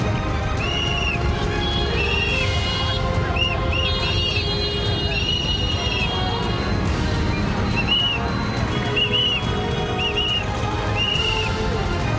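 A man whistles a series of short rising-and-falling notes, repeated in bursts over a steady dense background of noise and voices.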